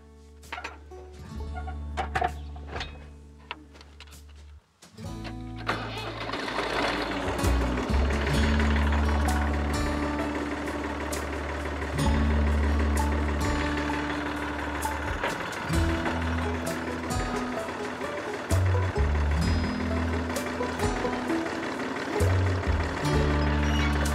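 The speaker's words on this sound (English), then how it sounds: "As soon as I hit the clay, which is 2 feet underground, it will just screw the auger all in" Powered auger drilling into clay about two feet underground, a loud continuous grinding engine drone with rattling that starts after a brief pause and runs steadily with slight surges.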